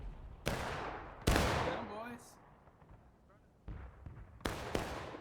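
Musket gunfire in the video game War of Rights, several sharp, booming shots fired singly at irregular intervals, some loud and close, others farther off with echoing tails, with a brief whistling sound between.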